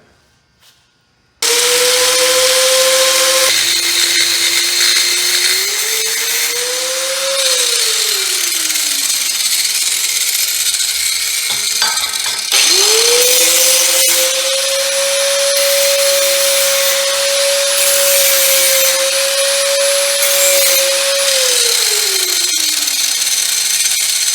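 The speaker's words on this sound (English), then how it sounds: "I'm gonna go ahead and cut it with the grinder" Angle grinder slicing through the coil of a front spring from a GM Regal, loud and steady, with the tone bending down as the disc bogs and rising again for a second long pass, alone with no talk.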